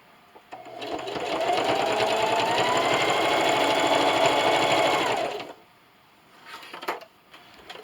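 A sewing machine stitches a quilted canning mat in one steady, fast-running burst of rhythmic needle chatter lasting several seconds, then stops, followed by a few small clicks and handling noises.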